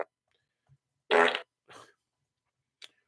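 A played fart sound effect gives a loud, sputtering blast, then a softer second burst and a brief final squeak, separated by near silence.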